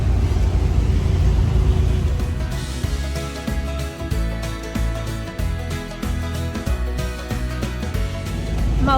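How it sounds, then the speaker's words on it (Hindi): Busy Mumbai street traffic: a steady low rumble of car engines with passing vehicles, intermittent horn-like tones and clattering, loud and close, no talk. "मुंबई की ट्रैफिक।"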